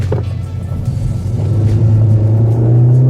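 An Alfa Romeo Giulietta QV engine with the Q2 electronic differential system accelerates under load, a deep rumbling drone rising steadily in pitch and growing louder as revs climb, heard close up from inside the car.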